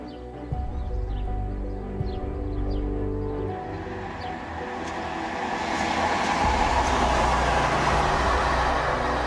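A train rolls along railway tracks, a dense steady rumble that swells louder toward the end as it draws nearer and passes.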